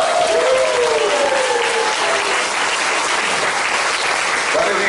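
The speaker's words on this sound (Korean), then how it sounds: "큰 박수 부탁드립니다" A church congregation at a worship service gives sustained, dense applause, an even wall of clapping from many people with a voice faintly heard through it.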